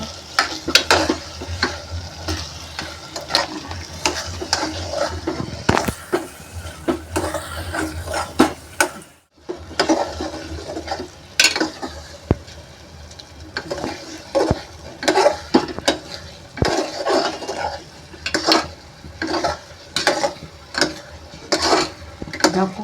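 A spatula scrapes and stirs crushed jaggery into cooked fada lapsi, the broken-wheat sweet, in a pan. A steady low sizzle runs underneath, and sharp scraping strokes come close and fairly loud with a brief pause partway through.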